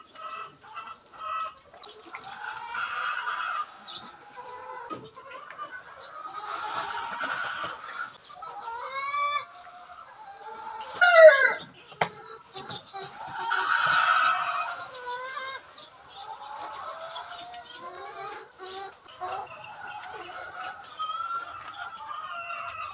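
Backyard chickens cluck steadily in a mixed flock while roosters crow repeatedly nearby, loud and close, with overlapping calls filling the whole stretch and a sharp louder burst near the middle.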